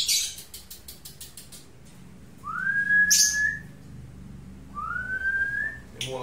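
A female lovebird gives two bright rising whistled calls a couple of seconds apart, close and clear over faint background rustle and soft ticking noises, with no voices.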